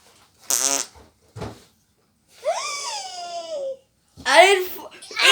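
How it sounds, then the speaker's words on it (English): Fart noises in a comedic skit, several short bursts and a long drawn-out rasping one, likely voiced or mouth-made, loud and close with pauses between. "Who farted?"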